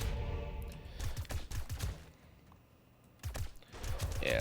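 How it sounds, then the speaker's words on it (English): Assault rifle fire in the zombie survival game 7 Days to Die, coming in several close bursts of rapid shots with a short lull between them. "got the old assault rifle going"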